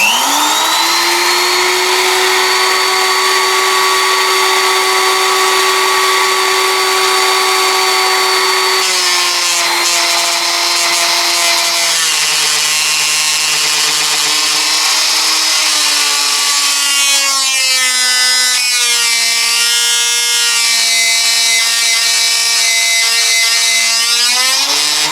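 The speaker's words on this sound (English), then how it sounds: "I'm just feeding them with the cross feed." A metal lathe runs steadily while the cross feed advances the tool, a loud continuous motor whine with shifting tonal cutting overtones that change pitch partway through, with no voices.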